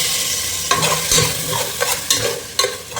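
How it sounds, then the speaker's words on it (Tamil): Beef tossed in a pot with onions for biryani sizzles loudly and close, with a steady frying hiss broken by several distinct stirring scrapes at irregular intervals. "நம்ம இப்போ பீஃப் போட்டுக்கிறேன்"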